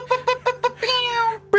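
A cat meow sound effect from a soundboard: four short quick meows in a row, then a longer drawn-out meow and the start of another, clear and up close.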